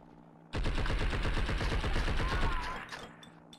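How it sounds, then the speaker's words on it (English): Gunfire in the video game Blood & Bacon, aimed at a blimp, starts abruptly as a loud, rapid automatic burst lasting about two seconds, then tapers off into quieter game background. "I'm shooting the blimp, bro."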